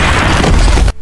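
A bomb blast from the war film Sisu, a loud, dense roaring boom sustained for about a second, then cut off abruptly into near silence.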